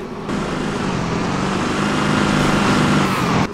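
A game vehicle in Halo: Reach rolls in with a steady, loud engine rumble and road noise that swells slightly as it draws near, then cuts off abruptly.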